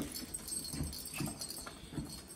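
Puppies scrapping with their mother dog give soft whimpers and grunts in a few short bursts, close by, over faint background noise.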